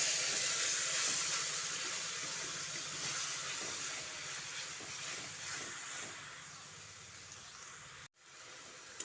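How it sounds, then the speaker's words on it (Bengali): Spice paste for a rohu fish curry fries in a pan with a splash of water, giving a loud, steady hiss and sizzle throughout, with no talking, before cutting off briefly near the end. "মশলাটা যাতে পুড়ে না যায় সেই জন্য অল্প একটু জল দিয়ে দিচ্ছি দিয়ে মশলাটাকে ভালো করে কষিয়ে নিচ্ছি"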